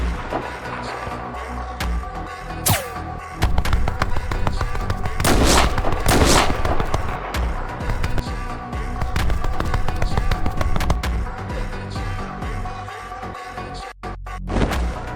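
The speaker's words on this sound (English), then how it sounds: "How did you manage to dodge my sniper shot?" Sniper rifle shots and battle noise in an animated clip, loud dense cracks and booms layered over a busy mix, with several sharp bangs close up and no talking.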